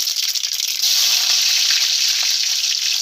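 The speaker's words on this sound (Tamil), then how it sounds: "கடுகு நல்லா பொரியட்டும்" Mustard seeds spluttering in hot oil for a Tamil tomato thokku, a steady bright crackling hiss with scattered pops, close and loud throughout, no talking.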